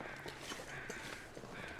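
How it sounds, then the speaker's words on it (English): Crows caw faintly in the distance in the survival game The Long Dark, a few soft repeated calls over a quiet outdoor ambience. "I can hear some crows."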